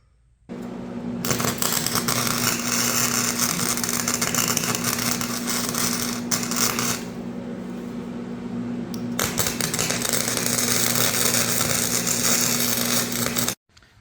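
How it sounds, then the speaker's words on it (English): Welding a lug bolt onto the spare tire carrier of a 2008 Toyota FJ Cruiser, heard as a loud, steady crackling buzz over a constant hum. It runs in two long passes with a brief break between them. "Let's weld."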